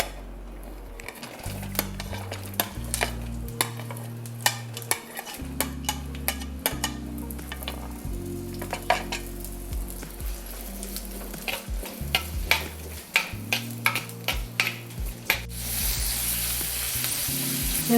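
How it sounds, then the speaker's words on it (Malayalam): Diced onions and potatoes sauté in a hot pan for a Kerala-style vadakkoottucurry, a steady close sizzle running throughout with frequent sharp scraping and stirring clicks of a utensil against the pan. "ചൂടായി കഴിയുമ്പോഴത്തേക്കും നമുക്ക് സവാള ഇട്ട് കൊടുക്കാം."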